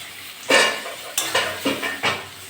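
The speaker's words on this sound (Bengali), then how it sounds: "মশলা দিয়ে নেড়ে চেড়ে একটু ভেজে নিয়েছি। আমি এবার কচু শাকটা দিয়ে দেবো।" Spiced taro leaves are stirred and fried in a pan: about five distinct scraping stir strokes rise over a continuous low sizzle, close and fairly loud.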